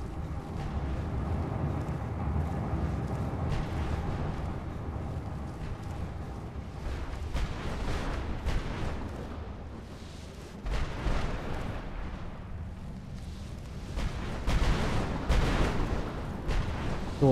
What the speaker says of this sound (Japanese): すごい爆発音がするんだけど